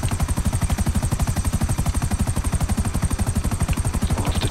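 A helicopter flies in GTA 5 Online, its rotor chopping in a fast, steady, even pulse with a deep engine drone beneath, loud and close for the whole stretch with no talk.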